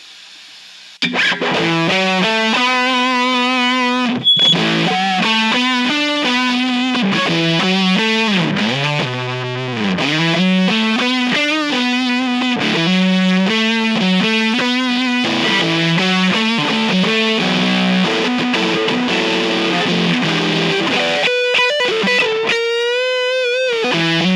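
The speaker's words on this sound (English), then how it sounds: "this thing will get a little more saturated, almost a fuzzish tone" A heavily saturated, fuzzy electric guitar, a modified Squier SP-10, plays a continuous melodic line, thick and buzzy throughout, loud and up close with no voices.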